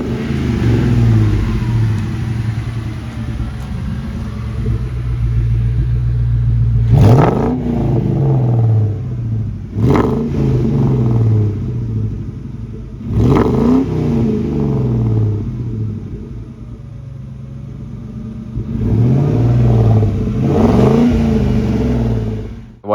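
A Ford Mustang GT V8 engine with a Borla Touring cat-back exhaust revs up sharply four times, each blip roaring then falling back to a throaty idle, close and loud.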